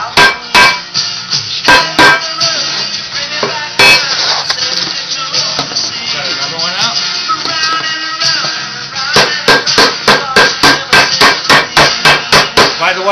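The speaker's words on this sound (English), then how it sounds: "this is a rawhide mallet" A rawhide mallet strikes a workpiece in bursts of sharp, close knocks, quick runs of blows separated by short pauses, loud against a quiet background.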